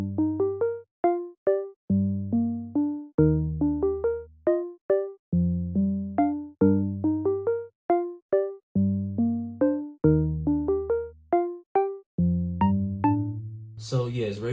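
Cadence Plug Shot "Cherry C" one-shot melody from a Grind drum kit, plucky bell-like synth notes over repeating low bass tones in a simple looping pattern, clean and alone, ending with a brief noisy burst.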